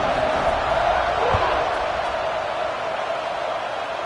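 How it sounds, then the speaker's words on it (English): A big football stadium crowd roars steadily at kickoff of an Oregon vs LSU game, a dense, loud wash of cheering voices that holds unbroken for several seconds. "They're set to kick it off, and this crowd now ready to get behind them."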